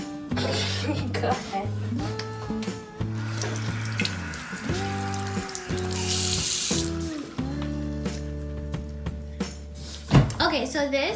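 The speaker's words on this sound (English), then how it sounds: "Okay, you put the water on now" Tap water runs steadily into a kitchen sink while music with a steady beat plays over it and a short cough-like sound occurs near the end.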